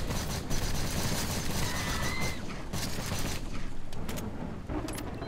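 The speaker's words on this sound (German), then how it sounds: "Explodiert jemand." Mob exploding in the video game The Cycle, a dense burst of crackling, popping blasts that fills the whole stretch, loud and close with no talk over it.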